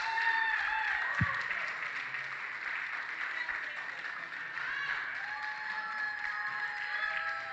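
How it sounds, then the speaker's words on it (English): Steady, packed audience applause fills an arena at a regional championship in the Cayman Islands, cheering a gold-medal athlete from the U.S. Virgin Islands with an even, sustained roar of hands. "Round of applause"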